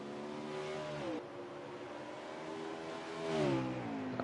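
A race car screams around the Mid-Ohio circuit in a Ruthless Racing Legacy Series race, its engine howling high and rising through the revs, dipping briefly at a gear change before climbing again, heard steadily from onboard with no talk.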